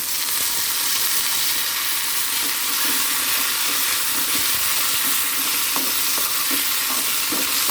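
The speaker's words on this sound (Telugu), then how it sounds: "అంతా బాగా వేగాలి నూనె కూడా తక్కువే పడుతుంది" Curry leaves and fresh coriander frying in hot tempering oil for a moong dal soup, a steady dense sizzle with light stirring scrapes throughout, close and continuous with no talking.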